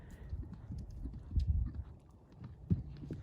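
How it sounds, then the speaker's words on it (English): A horse canters through a ditch during a riding training session. Its hooves give soft, uneven clip-clop thuds that are muffled and fairly low, with one firmer strike near the end and no voices. "So now she's cantering the ditch"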